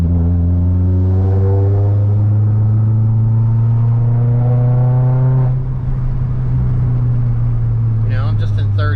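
A Dodge Dart GT fitted with an MPX exhaust drives along, its engine droning loudly and steadily with a deep rumble that rises in pitch and then eases, close and continuous throughout.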